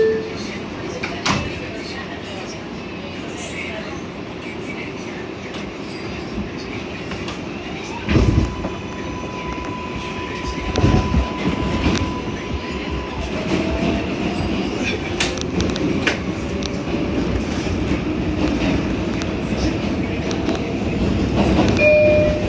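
An MTA New York City Transit R142A subway train on the 4 line rumbles steadily throughout, with rail clatter, brief screeches and a sustained tone from the car, and voices speak now and then.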